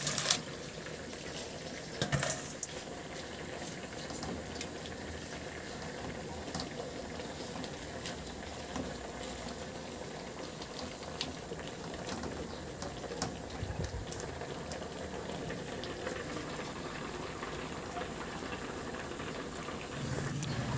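Sinabawang bisugo, a fish soup with pechay, calamansi juice and green chili, simmers in a pot, giving a soft steady bubbling and low burbling that stays faint and continuous with a brief clatter near the start.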